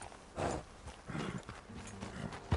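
Horse hooves in Red Dead Redemption 2 clopping in a few loose bursts at moderate loudness, with no talk over them.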